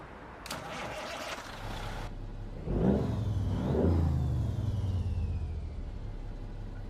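A 525-horsepower Cummins N14 engine in a Kenworth truck in American Truck Simulator starts with a mechanical whine, then revs twice in quick rising surges before settling into a steady idle rumble.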